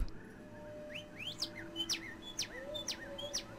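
Birds chirp in the Lord of the Rings: War in the North video game, a series of short, clear tweets and whistled calls repeating every half second or so over a soft steady background hum.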